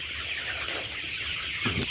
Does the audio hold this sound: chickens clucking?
yes